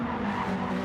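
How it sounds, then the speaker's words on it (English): Race car tyres squealing in a racing video game, a brief sustained skid tone with engine noise beneath, alone and fairly loud. "Just hear the tyres"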